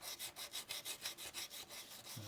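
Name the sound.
sanding glazing putty with 240 grit emery cloth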